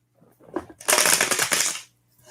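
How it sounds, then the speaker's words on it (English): A tarot deck, the Haunted House Tarot, being split and shuffled by hand: a single close riffle burst of about a second, preceded by light card handling. "I want to split the cards and shuffle them just to make sure"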